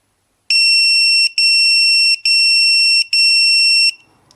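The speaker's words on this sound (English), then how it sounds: "Sorry about the loud beeping." Four loud, long electronic beeps in a steady row from an Alphapoc 602R pager, each a piercing high tone with short gaps between, then quiet.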